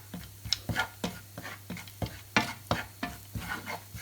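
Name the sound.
coconut being roasted and stirred in a pan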